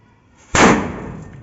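A single sharp firecracker bang goes off beside a parked car, a loud close burst that decays into a brief rumbling tail.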